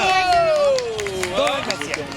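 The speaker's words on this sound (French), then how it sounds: "Et vous pouvez applaudir quand même!" A crowd at a girls' sports match claps and whoops, the applause running steadily under loud cheering and shouted voices.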